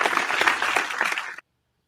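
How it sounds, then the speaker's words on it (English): A short burst of applause from a small group on a beer-tasting show, brisk close clapping that stops abruptly after about a second and a half. "Round of applause going for you here, my friend."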